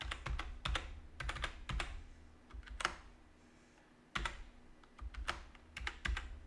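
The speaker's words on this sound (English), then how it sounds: "now I just typed anything in just to kind of give you an idea" Typing on a computer keyboard, with quick clusters of soft key clicks broken by short pauses, near and fairly quiet, with no voices.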